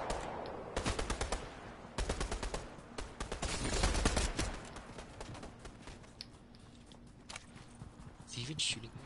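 Rapid automatic gunfire rattles in several close, sharp bursts during a multiplayer shooter match, stopping and restarting, with scattered single shots and footsteps afterward; players talk over the action.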